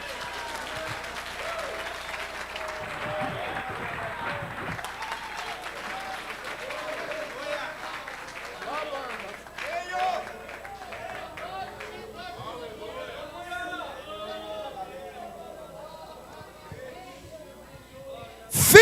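A church congregation at an Assembly of God service in Suzano applauds in a steady, dense wash of clapping that gradually thins and fades, with voices murmuring through the hall.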